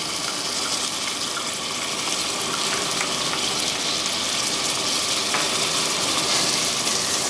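Tomatoes and green onion fry in a pan for spicy tomato chutney, a dense, even sizzling hiss that holds steady throughout with faint clicks and no talking.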